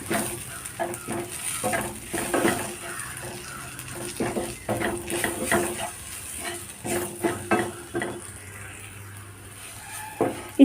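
Chili powder and turmeric roast in a hot pan, with repeated scraping stirs over a soft sizzle, the spoon strokes coming in uneven bursts up close.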